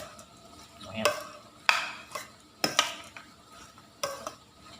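Old-style Thai glass noodle salad with peanuts is stirred and tossed in a bowl, giving several soft, close scraping and clinking strokes at irregular intervals.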